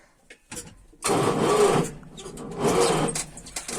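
A Timosan 7065 tractor engine, stiff from the cold, cranks over in two grinding bursts of about a second each with a short gap between them, loud and close, and fails to start.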